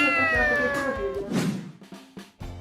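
A cat meows close by in a couple of drawn-out, tonal calls, followed by a few soft thumps and rustles with no talking.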